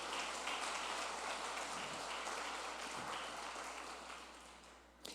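Church congregation applauding, a dense sustained patter of many hands clapping at steady loudness that tapers slightly near the end.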